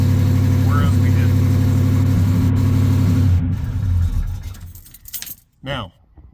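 A Chevrolet squarebody pickup engine catches and runs at a steady idle, loud and close, then cuts off as clattering and knocking noises follow near the end.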